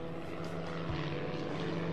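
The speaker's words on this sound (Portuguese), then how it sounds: "Um avião em chamas." A burning airplane in an aerial battle, a steady propeller-engine drone with a low hum running continuously at moderate loudness, no voices present.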